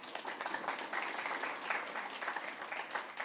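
Faint, steady applause from an audience welcoming an engineer to the stage at a talk, a continuous patter of many hands clapping at a distance without any voices.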